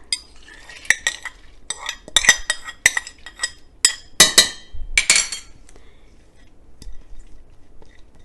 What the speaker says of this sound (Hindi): ये मेरा कुकर है, इसमें मैं ये डाल देती हूँ दाल।